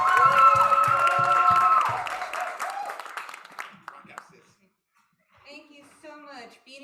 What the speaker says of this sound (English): Keep clapping, she's almost here.